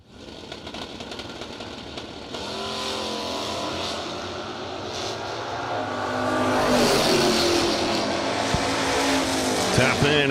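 Drag racing cars, including a Camaro, launch at Cedar Falls with a loud, sustained engine roar that climbs as they accelerate away, while an announcer talks over the racket.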